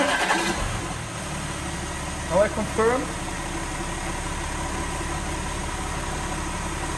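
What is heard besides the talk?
car engine running at idle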